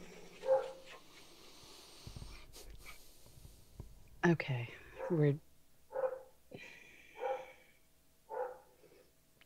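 A dog barks repeatedly, in short, fairly loud bursts spaced about a second apart, in a home recording setting while people talk and whisper around it.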